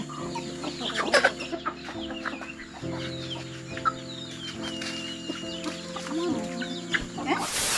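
Chickens clucking continuously on a farm in a rural forest setting, several birds at close to moderate distance with steady overlapping calls and occasional louder squawks.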